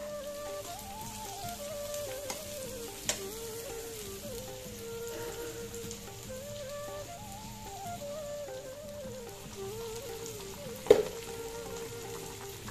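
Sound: frying chillies with shrimp in a pan

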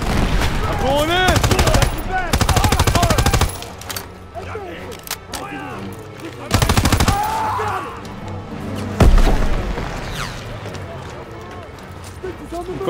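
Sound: gunfire in Call of Duty: WWII, video game

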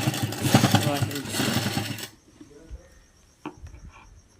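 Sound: sewing machine stitching lace onto fabric

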